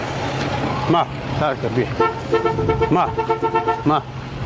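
A car drives past on a village road, sounding its horn in several short toots over passing engine and road noise, with voices faintly in the background.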